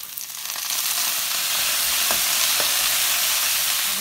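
Food stir-frying in a pan with soy sauce just added, a steady close sizzle throughout with a couple of brief utensil clicks partway through.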